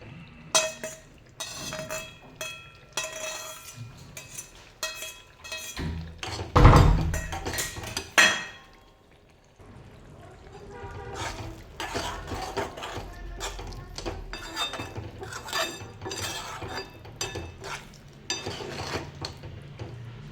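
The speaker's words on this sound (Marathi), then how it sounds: "आता यात मी अंडे टाकून घेत आहे." Boiled eggs dropped into masala in a pan for egg masala fry, giving a burst of clinks and a soft thud around the middle, followed by gentle stirring and light sizzling with faint clatter.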